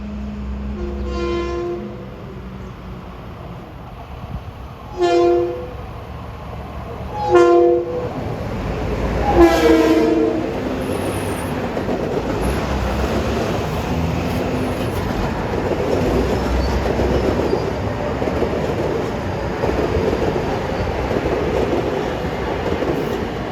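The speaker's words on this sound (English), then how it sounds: "the gates are going down on Main Street for train 1920" LIRR train 1920 on the Ronkonkoma Line, bound from Penn Station to Ronkonkoma, sounds repeated horn blasts while nearing a Main Street grade crossing, then rumbles past with a loud, sustained wheel and rail roar.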